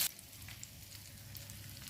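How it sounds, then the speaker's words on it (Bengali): Hilsa fish fries in hot oil, giving a faint, even sizzle that runs unbroken under quiet room tone, with no talking. "হ্যাঁ, ভাজা হয়ে গেছে, আমি এখন নামিয়ে নিচ্ছি।"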